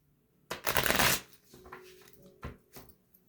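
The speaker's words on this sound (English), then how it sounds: "let's read for Vice President Biden with our bunny cards" Oracle cards with a bunny theme are shuffled for a reading, starting with a loud riffling burst that lasts about half a second, followed by a few softer, shorter card flutters and taps close by.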